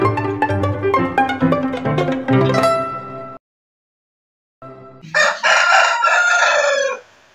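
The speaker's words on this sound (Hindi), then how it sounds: "सेटअप पे ना एक बहुत ही प्यारा सा मुर्गा आ चुका है" A loud rooster crows nearby in the morning, then brief silence, then another long cock-a-doodle-doo, with clucking mixed in at the start.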